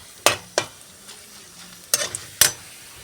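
Urad dal fries in hot oil in a pan, with a low sizzle broken by four sharp stirring clatters, two early and two close together near the end.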